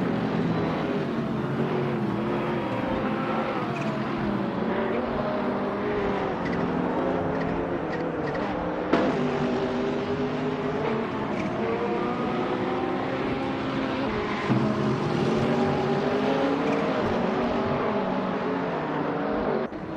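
A Ferrari 488 GT3 laps Paul Ricard during a racing video game qualifying session, its engine a continuous, wavering high-pitched drone that rises and falls with shifts and corners, steady and unbroken, with no talk.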